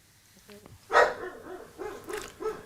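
A sleeping female dog dreaming lets out soft muffled yips, whimpers and small barks, a few brief bursts close by, quiet and intermittent.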